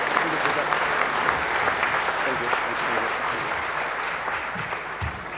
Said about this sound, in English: give him a hearty clap as he comes to address you